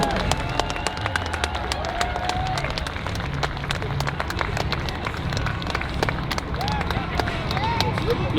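An outdoor crowd applauds the Canadian Armed Forces Skyhawks parachute team's three-wide skydiving formation, a steady wash of clapping and crowd noise with a few whistles running throughout.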